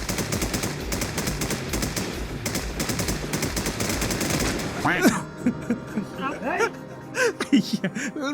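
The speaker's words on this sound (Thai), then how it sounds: "นี่นี่นี่เขาก็ยิงสวนเรานะครับผม" Rapid automatic gunfire in the Infestation shooter game, with dense bursts of shots crackling for several seconds before thinning into scattered single shots, while a player talks excitedly throughout.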